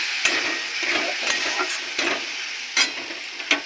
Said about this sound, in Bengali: দিয়ে মশলাটাকে কষাবো